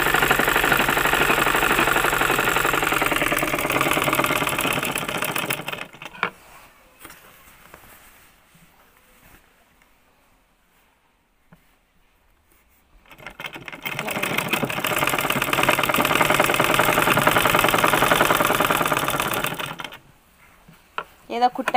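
A sewing machine stitching cloth runs in two fast, steady bursts, each several seconds long and close by, separated by a quiet pause with faint handling noises.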